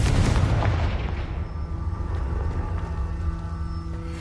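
A Confringo blasting spell explodes in Hogwarts Legacy, a heavy, booming impact up close followed by a rumbling, fading tail with lingering magical ringing tones.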